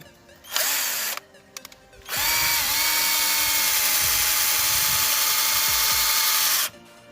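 An INGCO cordless drill drives a screw, first with a short whirring burst and a few clicks, then a sustained motor whine for about four and a half seconds that stops abruptly, close up, with no talking.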